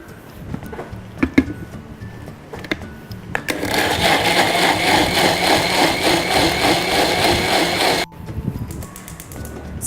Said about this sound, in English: We'll remove the bay leaf and blend it to a fine puree.